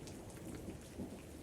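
Steady rain falls with a low rumble of thunder underneath, a faint, dense storm ambience with no voices.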